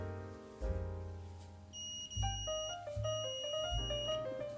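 A modified sensor circuit switched through an NPN ESC3198 control transistor sounds an alarm bell, giving a bright electronic beeping tone in stepped pitches, clear and close over a low hum.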